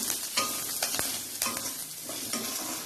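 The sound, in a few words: sautéing coriander leaves for mutton gravy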